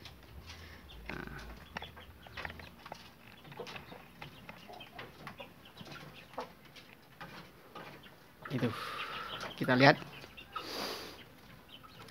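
Chickens being fed papaya give soft, scattered clucks and short calls among pecking sounds, with a sharper burst of calling near the end, while someone talks quietly over them.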